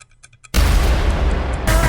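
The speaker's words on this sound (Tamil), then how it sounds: "உள்ள ஒரு பாம் பறந்து வெடிக்குது" A loud bomb blast erupts suddenly after a brief quiet stretch of faint music, followed by a dense, sustained roaring rumble that lasts to the end.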